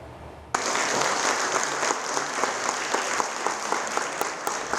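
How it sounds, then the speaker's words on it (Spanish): Loud, dense applause breaks out suddenly as the state attorney general arrives amid heavy security, a sustained burst of clapping with a few sharper claps standing out. "En medio de aplausos y con un fuerte operativo de seguridad, fue recibida la fiscal general del Estado Diana Salazar"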